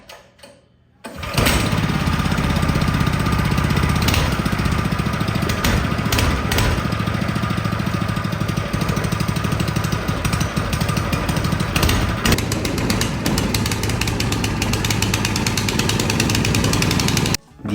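A long-tail outboard engine bought from Amazon and fitted to a homemade kayak fires up on fresh gas after a throttle cable install, then runs with a loud, close, steady buzzing drone that shifts slightly in pitch partway through.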